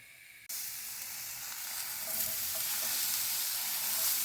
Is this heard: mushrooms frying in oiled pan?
yes